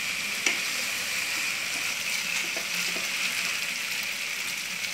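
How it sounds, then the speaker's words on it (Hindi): Rice being stir-fried with masala vegetables in a pan gives a steady, even sizzle, with a few faint clinks of a utensil scattered through it. "और मसाला वेजिटेबल के साथ अच्छी तरह से मिक्स कर लेती हूँ।"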